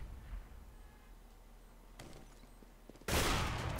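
Gunfire in a professional Counter-Strike match on the Train map, with faint scattered shots over game ambience, then a loud, dense burst of rapid fire at the end.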